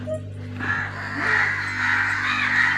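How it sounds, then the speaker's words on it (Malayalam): Crows caw repeatedly at a house, the harsh calls rising over a constant low electrical hum. "ഇഷ്ടം പോലെ കാക്കയുണ്ട്. അതൊക്കെ കാക്കയാണ്."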